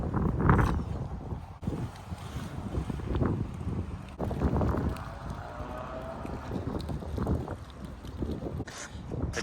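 Strong gusty wind buffets the microphone outdoors at a flatland BMX riding spot, a loud rumbling roar that swells and fades throughout, with faint scuffs and clatter underneath.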